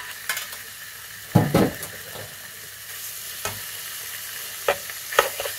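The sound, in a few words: meat frying in a pan without oil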